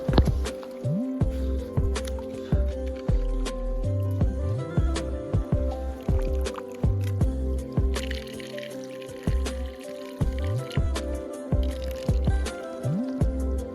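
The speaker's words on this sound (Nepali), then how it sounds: "त्यो पहाडबाट पानीको आवाज आइरहेछ" Water trickling and dripping down from a mountain spring into a forming stream, with irregular wet drips and squishy splashes repeating close by throughout, fairly loud and without talk.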